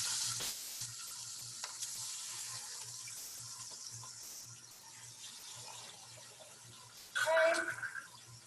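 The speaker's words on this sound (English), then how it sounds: "I apologize in advance if you can't hear me over the sizzling." Chicken sizzles skin side down in hot olive oil in a pan, a bright crackling hiss that fades gradually; a louder burst of sizzling flares near the end.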